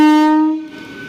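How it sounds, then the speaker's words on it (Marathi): A train horn blasts loud and close as a Godavari train pulls into a station, a steady harmonic tone held about half a second before cutting off into rumbling platform noise. "तर फायनली आमची ट्रेन आली आहे बघा."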